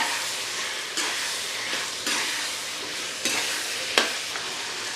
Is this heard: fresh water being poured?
no